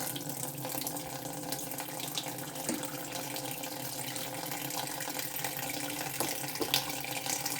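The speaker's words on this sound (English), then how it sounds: "Then add another cup of cold water." Cold water runs steadily from a tap into a bowl in a kitchen while oat porridge is being prepared, a constant close splashing flow with no talking.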